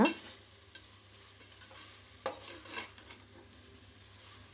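Banana flower biryani masala gets stirred in a pan, with a faint low sizzle under a few sharp scrapes and clinks of the spoon against the metal.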